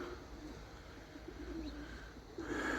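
Pigeons coo softly in a few repeated low, murmuring phrases, faint and somewhat distant against a quiet outdoor background with no one talking.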